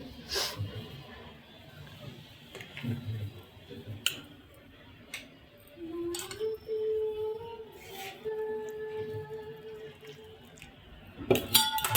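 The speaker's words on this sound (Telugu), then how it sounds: "కాలుతుంది కదండి, దానికనే స్పూన్తో కలుపుతున్నాను." A spoon stirs hot ragi flour dough in a bowl, giving scattered clinks and scrapes with short pauses between strokes, close and moderately quiet.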